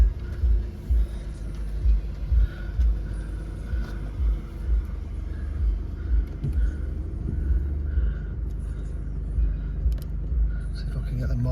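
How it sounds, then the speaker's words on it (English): A Mercedes-Benz C220d 2.1-litre diesel car engine turns over and settles into a low, steady rumbling idle while someone talks over it. "Just start the car up."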